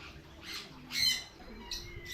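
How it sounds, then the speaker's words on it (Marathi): Several short squawks and calls from ducks, pigeons and chickens close by, coming in uneven bursts over a low background hum, at a museum in Loutolim, Goa. "बदकां बीन आसात हांगसर, कबूतर आसा, कोंबडे आहा ते पळयात"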